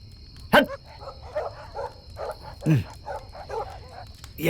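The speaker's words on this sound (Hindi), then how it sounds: "ये कुत्ते भी भौंक रहे हैं।" Dogs bark in a scene from a South Indian film dubbed into Hindi, with two loud, sharp barks standing out among softer yelps and vocal sounds over a low background hum.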